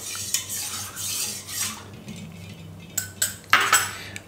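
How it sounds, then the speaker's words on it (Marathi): Curd being stirred into milk in a metal pot, with a spoon clinking and scraping against the sides in irregular bursts, louder knocks near the end, close by and without speech. "हे दही मी या दुधामध्ये घालतो आणि हे मिक्स करून घेतो"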